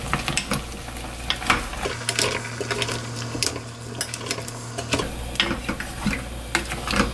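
Braised radish in a pot being stirred and flipped with a utensil, giving irregular close clicks and scrapes over a low simmering bubble, with a steady hum underneath in the middle stretch and no talking.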